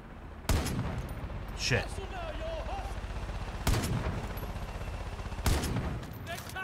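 Piercing-ammo gunfire in Far Cry 5 bursts out in four heavy, booming shots spread over several seconds, with a brief muttered voice between the shots.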